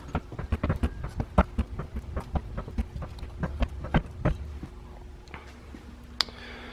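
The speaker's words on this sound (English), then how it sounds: "Let's raise this up and take a look at how this goes up." A Napa hydraulic floor jack with a double piston design is pumped up to full height, giving a steady series of sharp rhythmic clicks and thumps close by, with a brief hiss and a faint ring near the end.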